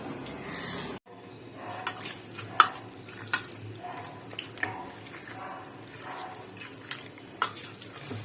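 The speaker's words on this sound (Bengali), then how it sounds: "চিকেনের লেগগুলোকে ভালো করে সর্ষের তেল আর লঙ্কার গুঁড়ো দিয়ে পাকিয়ে নিচ্ছি" Chicken legs being mixed by hand with mustard oil and chili powder in a bowl, close soft squelching and stirring with occasional clinks of a utensil against the dish, no talk.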